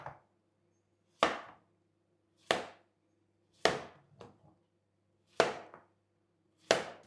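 A knife cuts zucchini into pieces of about one and a half centimetres on a board, six crisp separate chops spaced roughly a second apart, close and clear, with a couple of small taps between them and no talk.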